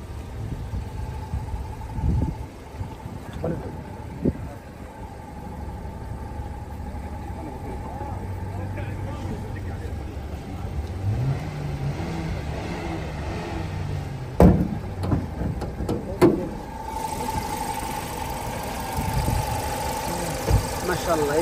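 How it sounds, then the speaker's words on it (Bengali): A 2010 Hyundai Accent sits idling, its engine giving a smooth, even low hum that runs steadily throughout, with people talking over it and a few sharp knocks and clicks near the end. "এই যে ইঞ্জিনের সাউন্ডটা মাশাআল্লাহ স্মুথ সাউন্ড"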